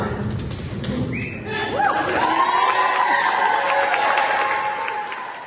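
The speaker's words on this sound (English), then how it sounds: "Dozens of school employees erupted in applause after learning about the decision." Dozens of school employees at a county commissioners' budget meeting cheer and applaud, loud whoops and clapping from a crowd rising and holding steady.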